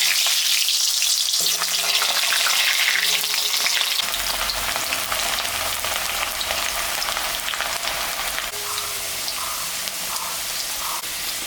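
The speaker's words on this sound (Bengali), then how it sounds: "তেল গরম হয়ে গেছে, আমি এখন আলুটা ভাজি দিই" Potatoes frying in hot oil for a home mutton curry, a loud, steady hiss of sizzling fat that runs the whole time with occasional scraping stirs, no voices.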